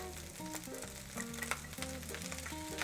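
Blanched vegetables go into egg fried rice in a hot pan, giving a steady sizzle with stirring scrapes under background music.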